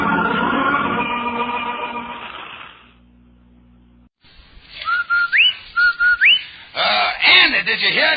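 An advertising whistle rings out on an old radio broadcast: a few rising, slurred whistled notes, clear and fairly loud, following a stretch of music and a brief hum.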